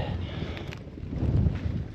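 Wind gusting across a hillside tent campsite in the Cheviots in autumn, a low rumbling buffet pressing on the microphone, steady and close, with no voices.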